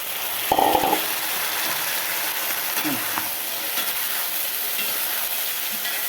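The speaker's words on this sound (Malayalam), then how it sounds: "അപ്പം നമുക്കിനി ഈ മുളകും കൂടി ഇട്ട് വഴറ്റാം കേട്ടോ" Chilies sauté with spice powders, including chili powder and a little turmeric, in a hot pan, giving a steady loud sizzle and hiss throughout, with a few brief stirring clanks near the start.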